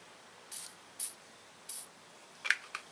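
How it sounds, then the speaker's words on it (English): Short bursts from an aerosol spray can aimed at a nut during a tune-up on a horizontal 18 hp Briggs and Stratton engine, three separate hissing sprays spaced apart, followed by a couple of sharper clicks. "I might as well spray that nut."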